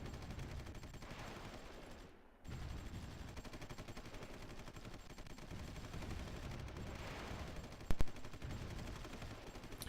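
Artillery and gunfire in the war strategy game Supreme Ruler Ultimate form a continuous faint rattle of rapid shots with a brief lull and one sharper burst, distant and steady throughout.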